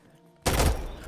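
AK rifle gunfire in the video game Insurgency: Sandstorm, a sudden loud burst of shots erupting after near silence and ringing out with a lingering echo.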